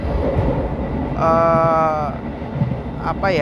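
Sritanjung passenger train on the Surabaya to Jogja run, heard as a steady rumble of the moving carriage with a brief tonal horn or brake whine in the middle, and voices talking faintly under it.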